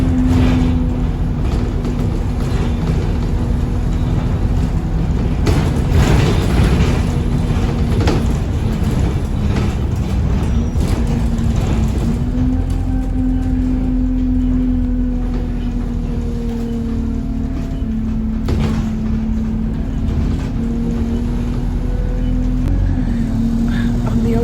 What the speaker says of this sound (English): On the bus.